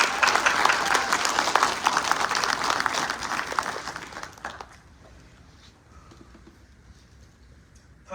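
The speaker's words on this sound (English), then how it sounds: "So I wanted to give a round of applause to them too today." Audience applause fills a graduation ceremony, a dense burst of clapping for about four seconds that fades away, leaving quiet room tone with faint murmurs.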